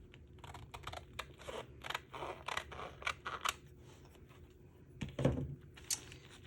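Scissors snip across a sheet of foil in a quick run of short, crisp cuts, close and fairly quiet, with a louder crunch near the end.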